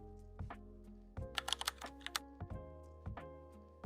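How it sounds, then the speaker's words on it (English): Fingers type a brief burst on a computer keyboard while entering a material search in Cricut Design Space, sharp clustered key clicks with a few spaced taps and soft thumps, close and quiet over low steady background hum. "I'm going to type in heat transfer again"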